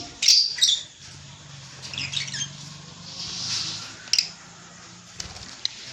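Fischer's lovebirds let out a few sharp, shrill squawks in quick bursts near the start, then make scattered fainter chirps and rustling close by. No voices are heard.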